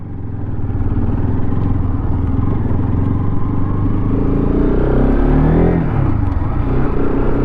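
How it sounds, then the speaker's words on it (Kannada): A 2025 Bajaj Pulsar RS200 motorcycle's exhaust drones steadily and loud up close, holding a constant engine note with a brief rise in revs near the end, no talk over it. "ಎಕ್ಸಾಸ್ಟ್ ಈ ಥರ ಕೇಳಿಸುತ್ತೆ"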